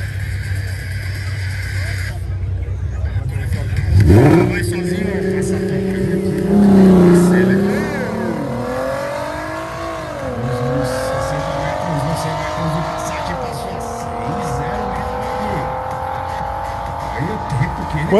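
A turbocharged VW Beetle (Fusca) launching down a drag strip, engine roaring loud, then rising in pitch through several gear changes as it pulls away, with a brief tire squeal at the start.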